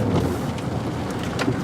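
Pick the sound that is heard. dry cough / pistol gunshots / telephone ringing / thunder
thunder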